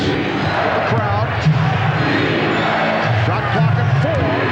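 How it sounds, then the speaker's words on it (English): Basketball arena crowd at a 1996 NBA Finals game between the Chicago Bulls and Seattle SuperSonics chanting defense in a steady, rhythmic pulse, loud and continuous under a commentator talking. "Chant of defense with the crowd."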